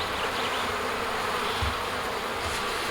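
Honey bees buzz steadily and close by during a spring honey super inspection at the hive, a dense continuous drone with a couple of soft low thumps underneath.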